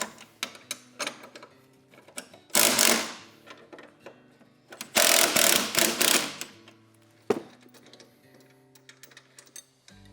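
A ratchet fitted with a 17mm socket loosens skid bolts on a 2022-2025 Lynx snowmobile: close, rapid clicking bursts between quieter pauses with scattered metallic ticks, and no voices.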